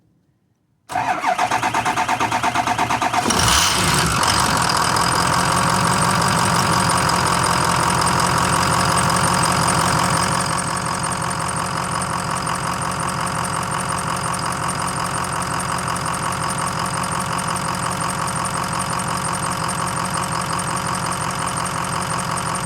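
Ford 6.0 diesel engine with a low oil pressure problem cranking and firing up after new glow plugs and injectors, then settling into a loud, steady, clattering idle that runs on alone without talk.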